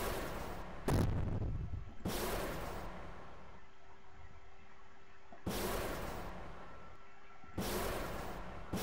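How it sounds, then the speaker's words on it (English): Rocket-jump explosions in the video game Neon Boost burst out in four sharp, booming blasts, each decaying into a brief rumble, separated by stretches of quiet with a faint tone. "So I'm gonna blow that up first, then come down, then rocket jump"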